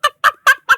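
A hen clucks four times in quick, evenly spaced bursts, close and clear as a sound effect in a spoken audio story.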